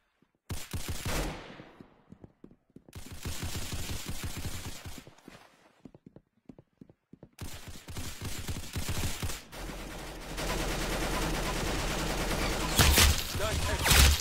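Bursts of rapid automatic gunfire in a shooter video game, several volleys separated by short pauses and building into a dense, loud stretch near the end, with voices in between.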